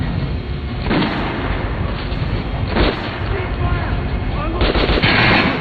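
Revolver gunshots in the video game Metro Last Light Redux: three loud, booming shots about two seconds apart over a dense, rumbling game soundscape.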